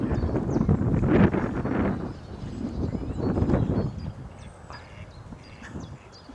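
Ducks on water give several scattered quacks amid gusty wind buffeting the microphone, louder at first and thinning out toward the end.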